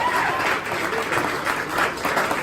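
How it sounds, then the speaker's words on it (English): A live comedy show audience at Golden Light gives a round of applause, a full, steady rush of clapping from a crowd, slightly swelling and easing. "One more time, give a round of applause for Solo for putting all this shit together."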